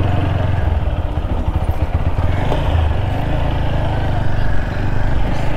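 A motorbike rides through heavy traffic on the road from Malda, its engine droning loudly and steadily close by, with wind rumble and no talk.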